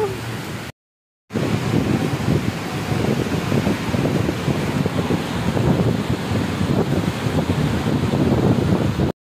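Steady roaring rush of heavy rain and gusting wind battering the microphone, loud and continuous, broken only by a brief silent cut near the start.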